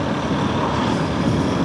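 A TVS truck rumbles along a Dhaka highway, a steady, loud roar of engine and road noise that holds close and unbroken throughout.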